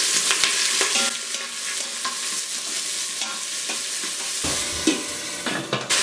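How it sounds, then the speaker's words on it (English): Onions tossed into pork vindaloo in an Instant Pot on sauté crackle and hiss loudly, with the spoon scraping and knocking as everything is stirred together. "To calm them down, I'm going to add onions and stir it up"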